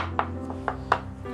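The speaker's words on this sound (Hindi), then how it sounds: "टैप कर लेते हैं, जिससे कि कुछ भी बबल्स, एयर हो इसके अंदर से निकल जाए।" A baking tin of banana cake batter made with wheat flour is tapped on a surface, giving four short, dull knocks spaced apart over a faint background hum.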